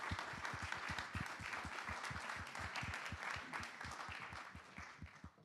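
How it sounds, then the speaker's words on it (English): Sustained applause for speakers at a food and data trust conference, fairly faint, with a steady rhythmic beat of thumping claps running under the broader clapping throughout. "let's give a round of applause for Sia and Eloy."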